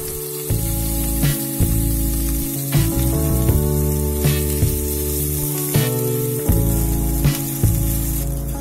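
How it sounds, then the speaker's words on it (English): Ginger paste frying in hot oil in a pan, giving a steady loud sizzle with repeated sharp bursts of spattering throughout. "For that we put in some oil and add a teaspoon of ginger paste."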